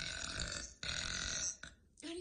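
A girl lets out long, loud burps up close, two drawn-out belches broken by brief pauses, with a short vocal sound near the end amid a bout of hiccups.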